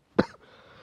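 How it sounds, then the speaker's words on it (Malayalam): A single sharp cough, close and fairly loud, then a short fading breathy tail into quiet. "ന്യൂ ഇയർ ആയിട്ട് നല്ല ചുമ കിട്ടിയത്"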